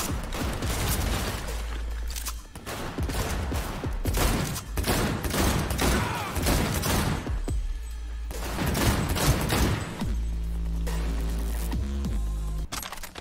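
Rapid gunfire and mechanical weapon clatter from the video game Cyberpunk 2077, loud dense bursts in quick succession broken by brief pauses, ending in steadier tonal game sounds.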